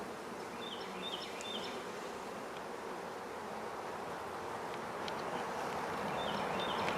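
Honeybees buzzing around beehives during a spring inspection after winter, a dense, steady outdoor hum of many insects at close range, with occasional louder passes near by and no talk.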